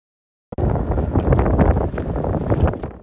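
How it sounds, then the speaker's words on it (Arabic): Wind gusting over snow-damaged tents in a displaced-persons camp in Azaz, northern Aleppo countryside, during a snowstorm; a steady, loud rushing roar begins abruptly after a half-second of silence and surges unevenly throughout, with no voices. "ليلة صامتة ليس فيها إلا صوت الرياح يبري الخيام"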